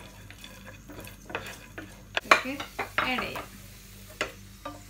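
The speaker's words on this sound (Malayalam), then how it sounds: "കുറച്ച് നെയ്യ് ഒഴിച്ചിട്ട് അതിൻ്റെ അകത്ത് കുറച്ച് കാഷ്യൂനട്ടും മുന്തിരിങ്ങയും ആഡ് ചെയ്തിട്ടുണ്ട്. നമുക്ക് അതൊന്ന് ചൂടാക്കിയെടുക്കാം." Cashews and raisins heat in ghee in a pan for a Navratri snack, with a gentle sizzle and scattered scraping stirs and clinks, close by, and a voice speaking briefly.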